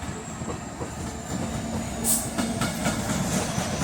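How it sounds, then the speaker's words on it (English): Freightliner Class 66 locomotive 66536 rumbles past at Crewe on the West Coast Main Line, its wheels clattering steadily over the rails with a faint high squeal, loud and close. "And here is a Freightliner 66, 66536."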